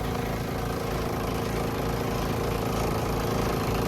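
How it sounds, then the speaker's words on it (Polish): Steady broadband hiss of air escaping somewhere on a DAF truck, continuous and fairly close, running over the low rumble of an idling diesel engine throughout. "Gdzieś powietrze spierdziela, ewidentnie słyszę"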